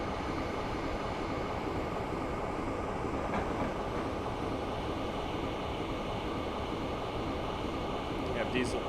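A train runs steadily in Train Simulator 2016 on the London to Swansea route, giving a continuous even rumble and wheel noise at moderate level with no clear breaks.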